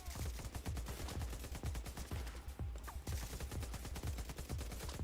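Rapid assault rifle fire in The Division 2, a dense, steady run of loud, punchy shots with a crunchy impact edge, one burst after another with only a brief gap near the middle.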